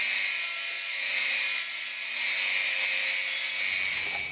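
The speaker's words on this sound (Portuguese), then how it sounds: "Eu vou ter que cortar." A part is cut to fit the headlights of a Volkswagen Brasilia, with a continuous rasping saw-like scrape that is loud and close. The cutting stops abruptly near the end, and no one speaks.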